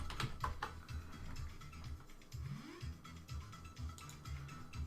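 Typing on a computer keyboard, a quick run of faint, close key clicks in an irregular rhythm, quiet and alone.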